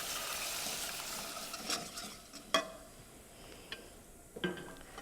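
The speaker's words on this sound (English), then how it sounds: "I'm going to whisk them together" A whisk stirs a butter-and-flour roux into hot milk for a white sauce for mac and cheese, a soft steady swishing with light sizzle and a few sharp clicks of metal against the pot.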